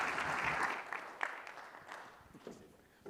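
An audience applauding to welcome the CEO of Turntide Technologies to the stage, a steady moderate crowd clapping that gradually thins and tapers, with scattered individual claps toward the end.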